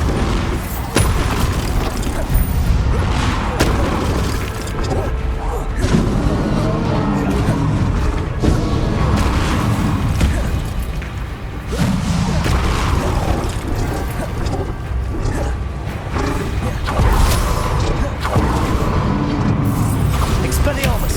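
A Bombarda blasting spell goes off in a Harry Potter video game, with heavy booming bursts rising out of a dense, continuous wash of game effects and music, while voices speak throughout.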